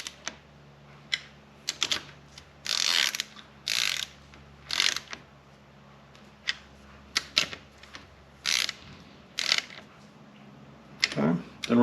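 A ratchet tightens the cylinder head bolts on a water-cooled Honda Odyssey FL350 engine, in short rhythmic bursts of rapid clicking separated by pauses, up close in a quiet workshop.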